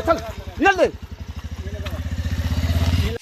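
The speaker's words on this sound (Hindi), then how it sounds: "ये देखिए बाइक लेके जा रहे हैं ऊपर चढ़ाने" A loaded motorbike climbs a hilly mountain road in the rain, its engine note thumping in a steady rising rhythm, loud and close, after someone shouts encouragement over it.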